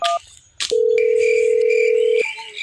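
Telephone dialing tones, a few short beeps followed by a long steady tone lasting over a second, then brief further tones, loud and close with no talk.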